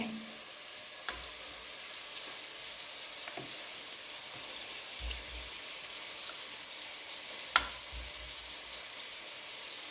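Spices for biryani tempering in hot oil, a steady faint sizzle and hiss throughout with a few soft clicks and one sharp tap, no talk.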